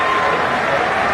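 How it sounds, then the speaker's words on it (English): Dense crowd applause at a cricket match in Perth, a steady, even roar of many hands clapping throughout with no pauses. "Generous applause there"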